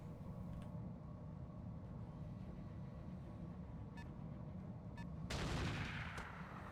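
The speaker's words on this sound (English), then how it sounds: "They're still trying to fire on this Saladin." Weapons fire aimed at a Saladin in the mech game RogueTech: a few sharp shots stand out over a steady engine-like rumble, then a loud, dense burst of fire comes near the end.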